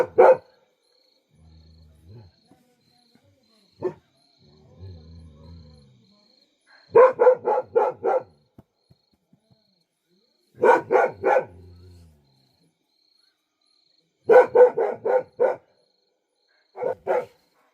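Barking deer alarm calls at night near a resort in leopard and tiger country: sharp, loud barks in clustered bursts of three or four, repeating at intervals with silence between, plus a few faint low murmurs.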